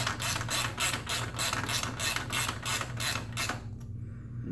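A hand ratchet snugs a nut on a Yamaha R1 aftermarket exhaust, giving about a dozen rapid, evenly spaced clicking strokes up close, then stopping abruptly.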